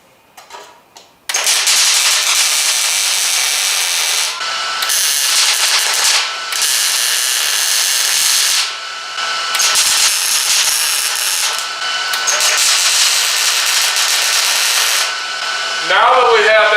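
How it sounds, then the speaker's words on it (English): A welder tack-welds a rust repair patch onto a car body, producing loud crackling buzzing bursts of several seconds each, separated by short pauses. "So we're just going to tack weld this on here just like this."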